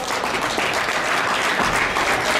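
Audience applause at a heavy kettlebell long cycle competition, a steady dense wash of clapping filling the room without pause, loud and close, with no voices standing out.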